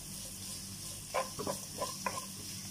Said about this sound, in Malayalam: സവാളയും ചുവന്നുള്ളിയും പച്ചമുളകും ചേർത്ത് കൊടുക്കുന്നുണ്ട്. അത് നല്ലവണ്ണം ചുവക്കുന്ന വരെ വഴറ്റി കൊടുക്കണം.